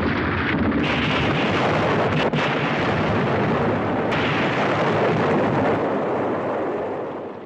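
Chemical weapons are detonated in a 1962 King Kong vs Godzilla film scene, a loud, sustained roaring blast rumble with crackling debris that fills the whole span and fades slightly at the end.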